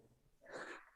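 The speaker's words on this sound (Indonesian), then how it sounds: "Suara bersin." A single quick human sneeze in an indoor studio, a short faint burst of breathy air rising out of quiet room tone.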